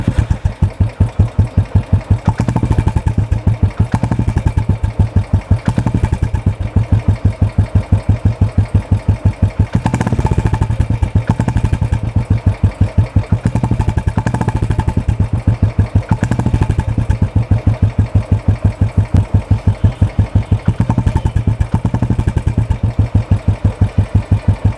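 A Royal Enfield Classic 350 fitted with an Indori silencer exhaust runs steadily close by for the whole stretch, a loud, deep, rapid thumping beat with brief revs swelling above the idle and no talk over it.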